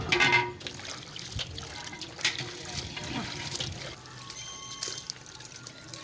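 Chopped tinda (apple gourd) being rinsed in a bowl of water, with splashing, trickling and pouring sounds at close range that rise and fall irregularly, loudest at the start.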